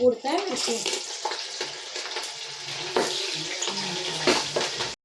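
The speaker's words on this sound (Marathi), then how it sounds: "या भातासाठी तेल टाकले त्यानंतर मिरच्या आणि याच्यामध्ये हे खडे मसाले" Green chillies and whole spices are frying in hot oil for biryani rice, giving a close, steady sizzle with stirring scrapes and a few louder crackling bursts.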